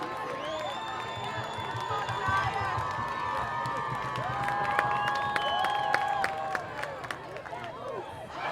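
A football stadium crowd at UNCP vs. Limestone cheers and claps after a missed field goal attempt, a sustained, fairly distant wash of applause and shouts with a public-address voice over it.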